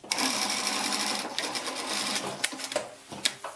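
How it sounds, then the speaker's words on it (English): A sewing machine stitches fabric during a hot pants alteration, its needle whirring steadily up close before the run slows into a few uneven final stitches. "Now you can just stitch the top over first."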